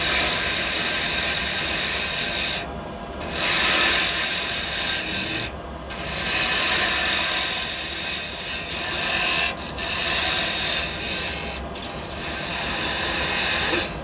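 A square chisel cuts wood on a lathe while turning a scoop. It gives a steady, close, rasping scrape that swells and eases in long passes, with a few short breaks as the tool lifts off the wood.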